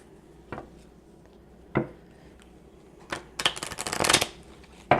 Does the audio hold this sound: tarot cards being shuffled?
yes